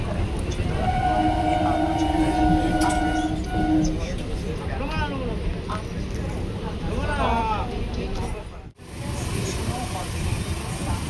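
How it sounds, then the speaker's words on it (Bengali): A Bardhaman–Howrah local train pulls into a station with a loud, steady rumble, sharp wheel and brake squeals early on, and indistinct voices murmuring in the background. "এখন বর্ধমান হাওড়া লোকাল ট্রেন ঢুকে গেছে"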